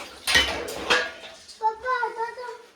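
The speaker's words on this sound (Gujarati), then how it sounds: "વાસણ કરી નાખીએ." Dishes, pots and pans clatter and clink in a home kitchen during washing, with a few sharp metallic knocks close by, followed by a voice speaking.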